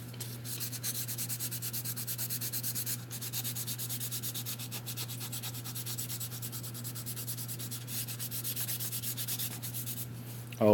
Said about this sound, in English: I always sand down where I'm going to glue to make sure it has something to connect to.